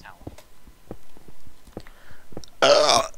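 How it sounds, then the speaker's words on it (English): A single loud burp erupts near the end, close and brief, after faint clicks and quiet murmuring from a Minecraft gaming session. "is a burp"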